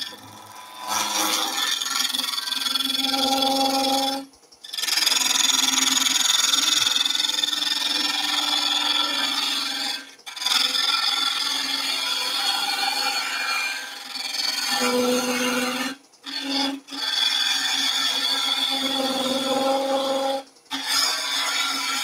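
A roughing gouge scrapes and rasps against a spinning Banksia nut and epoxy resin blank on a lathe, a steady loud abrasive whirr in long runs broken by a few short pauses as the tool lifts off.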